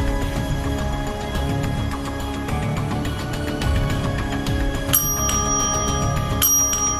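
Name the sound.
bell ringing in a ghost bell magic trick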